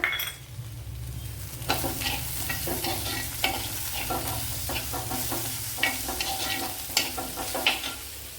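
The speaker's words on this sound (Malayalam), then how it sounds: "ഇതിലേക്ക് വലിയൊരു തക്കാളിപ്പഴം ഇട്ട് കൊടുക്കാം." Shallots sizzle and fry steadily in a pan as tomato is added, with stirring scrapes and soft clinks of a utensil rising over the constant frying hiss; no one speaks.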